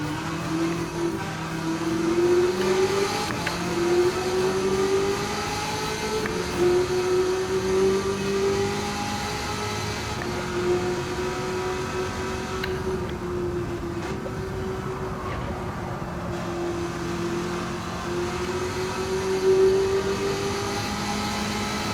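A Corvette ZR1 drives in Gran Turismo 7 with a steady, moderately loud engine drone whose pitch rises and falls gently under light throttle, with no talking.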